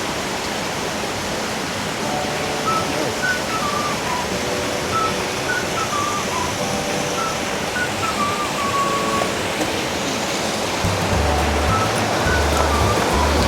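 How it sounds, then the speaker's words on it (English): Waterfall flowing at the Secret Waterfalls in Ella, Sri Lanka, a steady broadband rush of falling water close by, with faint bird chirps threading through it. "We made it to the bottom of the Secret Waterfalls"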